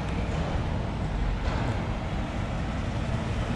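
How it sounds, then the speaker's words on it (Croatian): A truck drives by near a site where boards are being loaded for an attic, a loud, steady low rumble of engine and road noise with no talk over it. "ide kamion"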